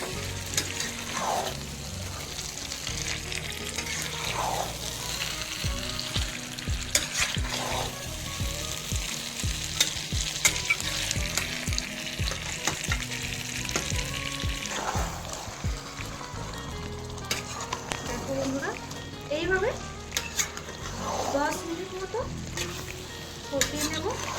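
Chicken kosha fries and sizzles in a pan while it is stirred repeatedly, with a steady close crackle broken by scraping spoon strokes throughout.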